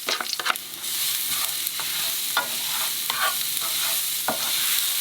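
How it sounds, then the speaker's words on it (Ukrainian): Garlic frying in melted butter in a pan, a bright continuous sizzle with a few stirring scrapes and clinks near the start, close and fairly loud, no voices. "На вершковому маслі обсмажуємо спочатку часник."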